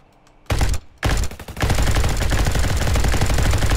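Gunfire from a Roblox copy of Call of Duty: two short sharp bursts, then sustained rapid automatic fire, loud and dense, with no talk.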